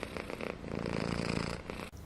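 A cat purrs in a close, rich, rhythmic rumble that continues for about two seconds and then stops, with no voices.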